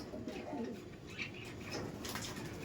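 Giribaz pigeons, a male and female pair, cooing in soft, overlapping murmurs at moderate distance, with steady background hum and occasional faint chirps.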